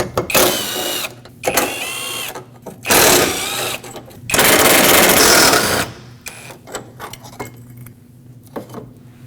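Bolts being loosened and removed from the radiator support brackets on a 2005-2021 Nissan Frontier 2.5L, giving bursts of rapid mechanical ratcheting and metallic clicks, close and loud, separated by short pauses and small clinks.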